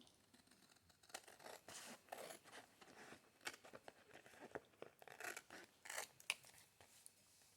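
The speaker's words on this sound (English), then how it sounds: "Now I'm going to cut this apart again." Scissors snip through a paper craft tag in a quick, uneven series of close, crisp cuts, with faint paper rustling between snips and no talking.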